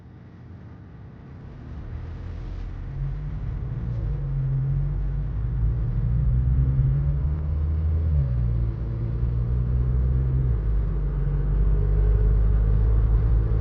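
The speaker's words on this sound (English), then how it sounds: "So guys, this is just a night drive with the Polo GTI." Volkswagen Polo GTI driving at night, a steady low engine rumble and road noise from inside the car that slowly swells as it picks up speed, with no talking.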